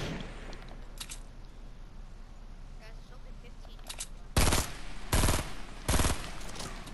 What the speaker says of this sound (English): Who's shooting that minigun?